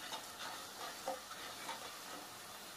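Banana chips frying in hot oil in a village kitchen, a faint, steady bubbling sizzle with soft irregular crackles and no voices.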